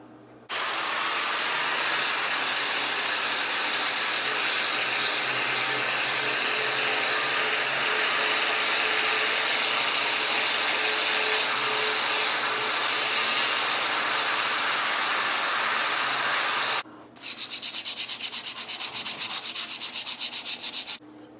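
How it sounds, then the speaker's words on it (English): Grinder running over a rusty steel discada cooker to strip the rust, a loud, steady abrasive roar that holds for about seventeen seconds, then briefly cuts out and resumes with a harsher, buzzing tone. "grinder and I'll just run over it and get the rust off of it"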